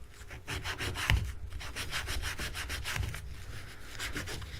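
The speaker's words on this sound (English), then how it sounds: "I'm just going to lightly sand this a little bit" A Tusq guitar nut for a Glarry Telecaster-style guitar is being lightly sanded, giving steady rhythmic back-and-forth rasping strokes, close and fairly loud, with a few sharper knocks and no talking.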